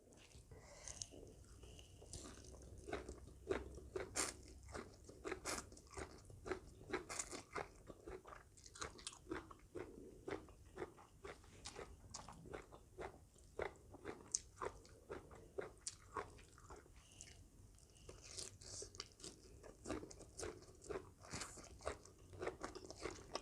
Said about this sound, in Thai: กินผักไปเลย